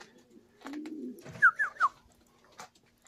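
A pigeon coos nearby in a loft, with a low drawn-out coo followed by three short, clear notes. It is fairly quiet and alone, with no talking.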